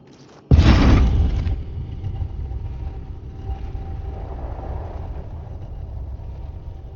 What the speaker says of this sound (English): The sound of a firearm.